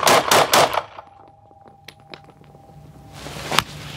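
Several sharp gunshots crack in a quiet space during police firearms training, a few spaced single shots followed by a louder burst near the end, with a low steady hum underneath.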